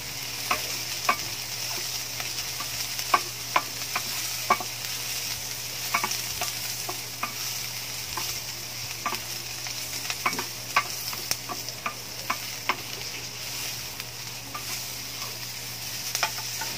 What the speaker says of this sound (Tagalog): So igisa-gisa lang natin ng kaunti.